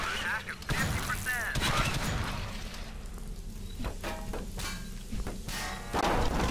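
Rapid gunfire and mechanical clatter in the game Alien Swarm fill a dense, busy soundscape, with continuous shots and impacts layered over constant game noise.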